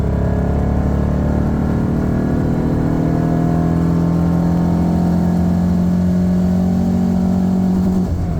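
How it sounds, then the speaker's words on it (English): A car engine fitted with IDF carburetors is held at wide open throttle, giving a loud, sustained roar whose pitch climbs steadily as the revs rise across the whole stretch, close by and with no talking. "Wide open throttle."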